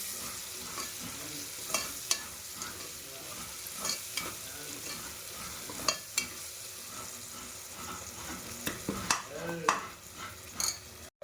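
Raisins for ghee rice fry in a pan with a constant soft sizzle, while a spoon scrapes and taps the pan now and then in an uneven stirring rhythm.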